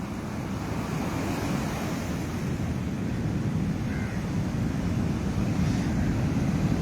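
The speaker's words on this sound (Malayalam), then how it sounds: "തിരമാലകളുടെയൊക്കെ ഒരു ശക്തി നോക്കണേ വളരെ ഉയരത്തിൽ അത് കുതിച്ചുയരുന്നുണ്ട്" Rough Kerala sea surges onto the shore in a continuous heavy roar of surf, with wind buffeting the microphone throughout and no one speaking.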